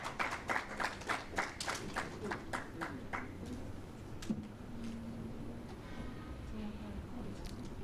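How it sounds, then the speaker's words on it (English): At a conference on economic, social and cultural rights, a small audience claps in a quick rhythmic run of distinct claps that thins out and fades to faint room noise, rather quiet and somewhat distant. "Please, a round of applause as they sit back."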